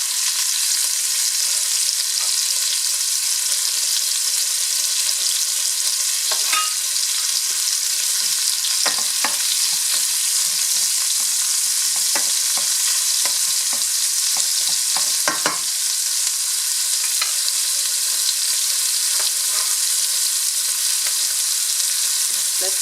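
Garlic sizzling in a hot pan for a pork and vegetable stir fry, a loud continuous frying hiss with scattered clicks and taps of stirring throughout, close up and without talk.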